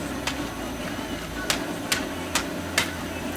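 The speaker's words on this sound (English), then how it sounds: "we don't have a grinder, so I'm using this hammer." A hammer crushes coffee beans for brewing a breakfast stout, four or five sharp, evenly spaced knocks over a steady background hum, close and fairly loud.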